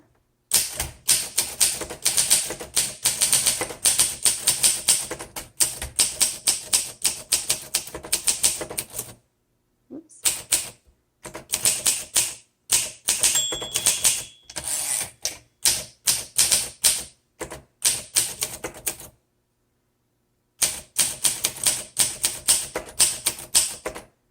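Typing on a 1956 Olympia SM3 manual typewriter: rapid bursts of sharp, heavy key strikes clatter close up, separated by short pauses, with no talking.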